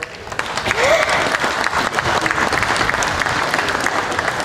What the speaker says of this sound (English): let's give these juniors a big round of applause out here